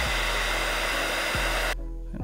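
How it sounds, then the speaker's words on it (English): A blow dryer runs loud and steady, heating the 3M adhesive backing on an action camera helmet mount, then cuts off abruptly, leaving a low lingering hum. "go ahead and use the blow dryer and heat that up"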